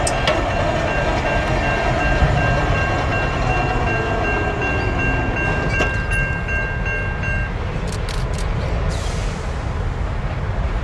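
A Zug Island coke freight train, L575, rumbles past nearby with a loud, steady roar of rolling wagons and wheel noise. A long horn tone sounds over it for a few seconds, then bright metallic squeals cut through near the end.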